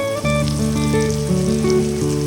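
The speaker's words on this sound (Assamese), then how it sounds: "এতিয়া লাহে লাহে আমি যেতিয়ালৈকে ৰঙচুৱা নহয় পিঁয়াজখিনি তেতিয়ালৈকে আমি লৰাই থাকিম।" Onions dusted with cumin powder fry in a pan for a pork dish and are stirred continuously, a loud, steady sizzle with music playing underneath.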